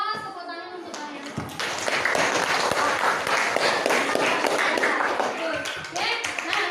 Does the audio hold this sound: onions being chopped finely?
no